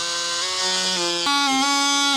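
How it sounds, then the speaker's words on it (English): A cordless power driver backing a screw out inside a cargo trailer, a loud close whine that shifts sharply higher in pitch partway through as the screw frees. "All right, gonna take out this screw."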